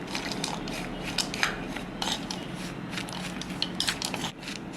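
Spoon scraping and clinking in a bowl while mixing fruits and nuts with all-purpose flour for a pressure cooker fruit cake, a steady close rattle of quick taps and crunchy stirring without talk.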